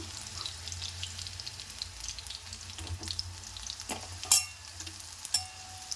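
Green chillies fry in hot oil with a soft, continuous sizzle, with a few sharper crackles and pops rising above it near the end.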